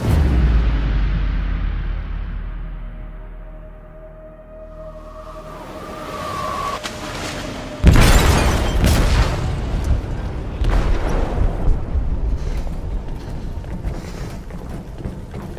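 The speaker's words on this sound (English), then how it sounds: "They detonated an explosive in the hold." An explosive detonating in a ship's hold in the video game Detroit: Become Human: a sudden loud, deep boom partway through, after a low rumbling buildup, followed by sustained roaring and crashing debris.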